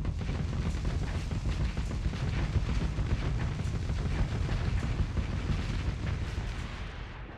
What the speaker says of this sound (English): as the ship was about to detonate, I activated my shield, which absorbed the explosion